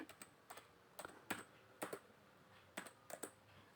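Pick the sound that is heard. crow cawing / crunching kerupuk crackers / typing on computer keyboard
typing on computer keyboard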